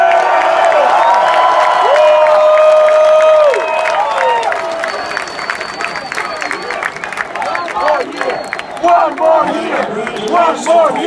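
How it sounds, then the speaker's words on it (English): A stadium crowd at the 2017 Miami Hurricanes versus West Virginia bowl game roars and cheers continuously, with a sustained whistle-like tone early on and voices calling out over the dense crowd noise. "And you hear the crowd here cheering."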